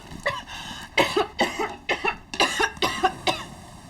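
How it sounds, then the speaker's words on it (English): A woman coughs repeatedly in a steady series of about ten sharp, close coughs with short gaps between them. "Why is she coughing?"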